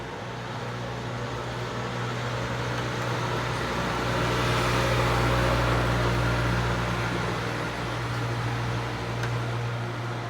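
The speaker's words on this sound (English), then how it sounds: "That was a very loud truck." A loud truck passes close by, a broad roaring rumble that swells to a peak mid-way and then eases off, over a steady low hum with no voices.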